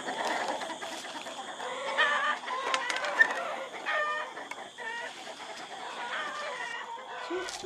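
Chickens kept by a young man in a suburban tropical Amazon settlement cluck and squawk repeatedly at close range, with a rooster-like call mixed in, over a steady busy background and no talk.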